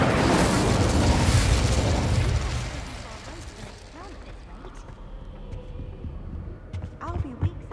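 A fire spell cast in the video game Hogwarts Legacy: a loud, roaring burst of flame that swells at once, then fades into quieter crackling and scattered game effects, with voices heard faintly.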